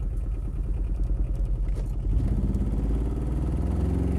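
A small car powered by a 500cc twin-cylinder Kubota diesel engine turns in place, its quiet, lumpy clattering idle pulsing rapidly and close by, with no talk.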